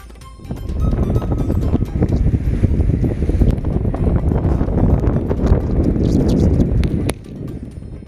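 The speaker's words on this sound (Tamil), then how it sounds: "கடலூரில் புயல் எதிரொலியாக கடற்கரைகளில் கருங்கற்களை தாண்டி பாயும் அலைகள்." Cyclone-driven sea waves surging over black boulders on a beach at Cuddalore, a loud sustained roar of crashing surf mixed with heavy wind buffeting the microphone, easing near the end.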